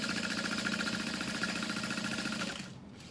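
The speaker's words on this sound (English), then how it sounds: "So we're just gonna top stitch along these two." A sewing machine top-stitches along card slots of a clutch wallet, running at a steady, rapid mechanical rhythm for a few seconds before stopping abruptly near the end.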